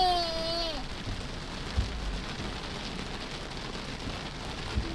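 Heavy rain drums steadily on a Tesla during a flash flood, a dense continuous wash with a couple of soft thumps and a fading electronic tone at the start.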